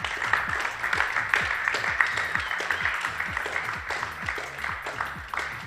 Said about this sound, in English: if you could give a big round of applause to David Robertson